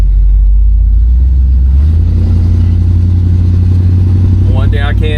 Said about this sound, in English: this exhaust does sound good on this 396